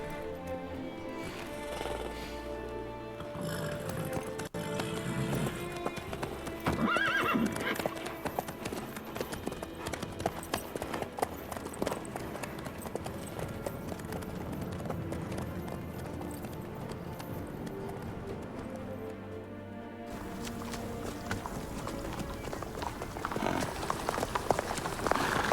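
Horse hooves clip-clop in a steady, continuous rhythm while riding in The Witcher 3: Wild Hunt, close and clear over a soft hissing ambience.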